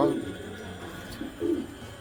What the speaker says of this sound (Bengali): এগুলি হলো original shocking. House pigeon big size.